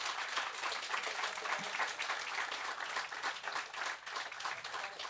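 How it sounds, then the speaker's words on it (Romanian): Audience applause for the president at a live sports talk event, a dense, steady wash of many hands clapping at moderate distance, sustained throughout without a break. "Aplauze pentru domnul președinte!"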